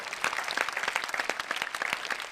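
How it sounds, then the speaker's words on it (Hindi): A studio audience at a Holi episode of a Hindi television show applauds steadily and densely, a close, even wash of many hands clapping with no break. "जरा इनके लिए तालियां दें।"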